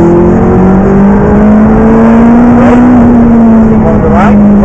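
A McLaren 650S engine at full throttle on a racing track, a loud sustained roar climbing steadily in pitch from inside the car, with a faint voice under it.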